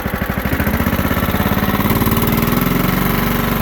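A John Deere STX38 riding lawn mower engine idles at close range, a loud, steady, rhythmic chugging thrum with even pulses and no voices.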